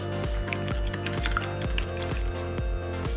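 Perilla oil, sugar, chili powder and sesame seeds being stirred together make soft, wet squishing sounds that repeat steadily at close range over a continuous background of music.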